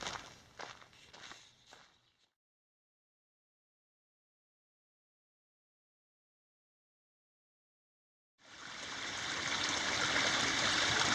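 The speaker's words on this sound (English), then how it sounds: "Plenty of water flowing today." Water rushes over rock in a desert slot canyon stream, a steady broadband wash that returns after a silent gap, preceded by a few crunching footsteps on gravel.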